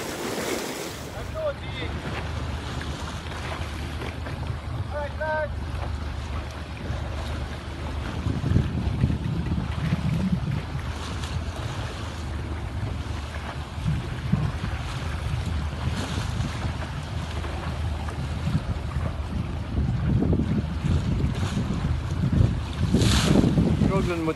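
A Rival 41 sailboat under new sails moves through open water, with steady wash of waves along the hull and gusting wind buffeting the microphone throughout.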